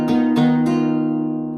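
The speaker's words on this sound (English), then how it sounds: "use that rasgueado on each chord." Flamenco guitar strummed in bulerías style, with three bright rasgueado attacks on the chord that ring out and slowly decay, close and clear with no voices.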